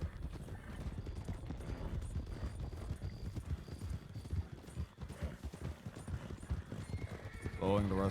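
Horses gallop in a video game with a steady clip-clop of hooves, and a whinny is heard near the end. Someone talks over the hoofbeats throughout.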